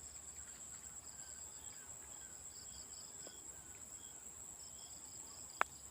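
Crickets chirp in a steady, high, continuous trill over quiet night ambience beside a pond, with a single sharp click near the end.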